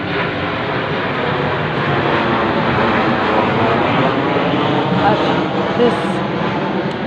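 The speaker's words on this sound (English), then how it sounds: "there is the patrolling plane still going over my head" A patrolling airplane passes overhead at night, a broad steady droning roar that fills the whole stretch at a constant loudness, with a voice speaking briefly over it.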